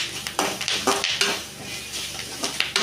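Drumstick leaves tossed with grated coconut in a pan are stirred with repeated scraping and clinking strokes of a utensil over a soft sizzle, close by and fairly loud.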